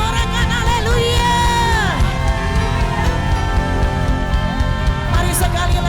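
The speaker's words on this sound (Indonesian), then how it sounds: "Sorakan haleluya." A church congregation shouts and cheers hallelujah together in a loud, sustained roar of many voices, with music and singing running continuously underneath.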